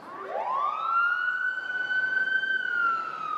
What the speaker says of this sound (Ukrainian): це звук пожежної машини.